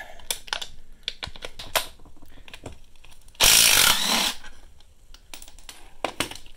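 A 15 millimeter socket on a ratchet loosens bolts on a Jeep transfer case, with sharp clicking and ratcheting taps, and a short burst of louder power-tool whirring in the middle.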